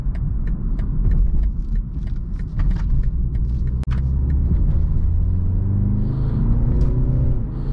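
Steady, smooth engine drone from a 2020 BMW 330i's 255-horsepower four-cylinder while driving, heard from inside the cabin with road rumble; the tone climbs gradually near the end as it pulls harder.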